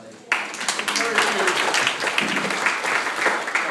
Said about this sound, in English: this is your opportunity to applaud for the candidates